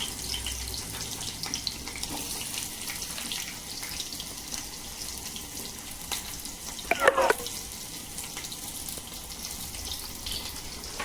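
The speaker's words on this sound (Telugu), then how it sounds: "బౌల్ పెట్టుకొని ఆనియన్స్ వేయించుకోవాలి." Onions cut into long thin slices frying in a bowl over high flame for Hyderabadi dum biryani, giving a steady low hiss with a brief louder crackling burst partway through.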